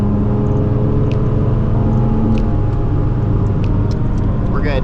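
Nissan 350Z HR driving in heavy traffic and cutting in front of a semi truck: steady loud engine and road rumble throughout, with faint intermittent higher noises above.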